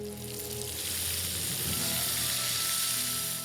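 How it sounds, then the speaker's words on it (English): Steady crackling sizzle of corn-floured oysters frying in hot vegetable oil, close and continuous, with no talking over it. "so we're frying them in vegetable oil here, get them good and crispy"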